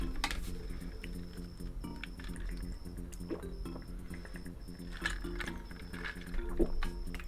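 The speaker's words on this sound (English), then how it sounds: "Sorry if the gulps are loud into the mic." Someone gulps a drink of water right into the microphone, wet swallowing sounds running over steady chiptune-style music from Donkey Kong Country 3: Dixie Kong's Double Trouble.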